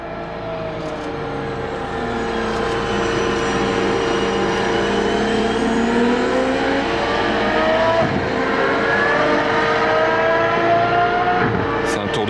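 An Aston Martin Valkyrie engine roars loudly on a race circuit during a warm-up lap, pitch rising and falling through gear changes as it accelerates past, with no talking.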